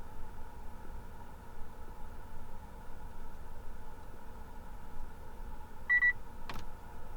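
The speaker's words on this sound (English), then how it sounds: "Hear that beep?" Short electronic beep from a car's air conditioning control after the recirculation button is held down in auto mode, a brief double tone near the end over a steady low engine idle hum.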